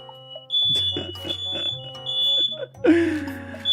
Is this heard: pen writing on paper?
no